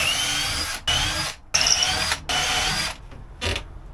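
A power drill drives a screw to fix a fitting to a narrowboat cabin roof, several loud close whirring bursts separated by short stops, the last one brief and quieter.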